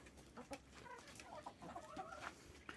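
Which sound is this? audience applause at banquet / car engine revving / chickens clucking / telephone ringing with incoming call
chickens clucking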